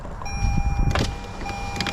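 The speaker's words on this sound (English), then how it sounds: "Let me actually go ahead and get the window" A car's power window motor whirs down steadily, close by inside the cabin, with a brief clunk partway through and a faint tonal hum throughout; no one speaks.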